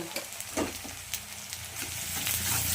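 Ginger-garlic paste sizzles and fries with lightly browned onions in a pan, a steady close hiss with scattered crackles and soft stirring scrapes, no talk.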